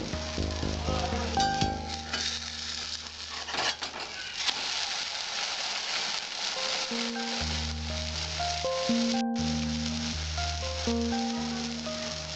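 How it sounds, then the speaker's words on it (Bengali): An egg omelette fries in a pan with a steady, close sizzle throughout, broken by a few utensil scrapes and clatters as it is turned over, while a faint musical tone runs underneath. "আমার এক পিঠ হয়েছে, এবার আমি ডিমের অমলেটটা উল্টিয়ে দেবো"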